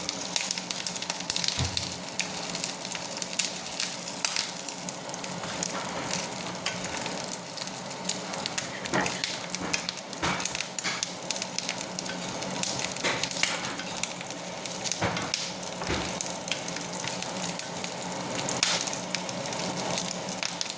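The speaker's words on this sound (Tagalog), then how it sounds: "Lumalabas na yung mga mantika niya" Pork fries in its own rendered fat, a steady dense sizzle with crackles and pops running continuously at close range, with no talking.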